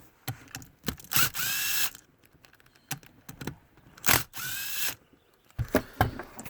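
A power tool, likely an impact driver or ratchet, runs in two sustained bursts with shorter clicks between, removing bolts from a Kawasaki KX500 two-stroke engine to free a stuck exhaust valve flapper.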